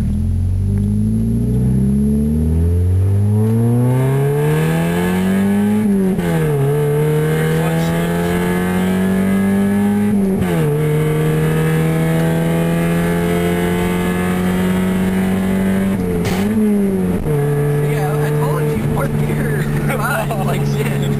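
A car engine with no muffler revs up and down in loud, raspy swells, rising to a sustained roar, dropping briefly, then climbing again several times, with the harsh exhaust drone filling the whole stretch.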